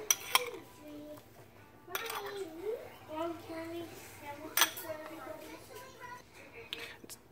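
Spoon scraping and clinking in a bowl as sugar is stirred into Instant Pot oatmeal, short bursts of stirring between quiet gaps, with a voice faintly in the background.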